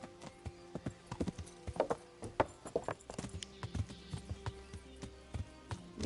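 Hooves of a ridden horse in the medieval game Kingdom Come Deliverance, a steady clip-clop of distinct thuds with a brief whinny, fairly close and clear, with no talking over it.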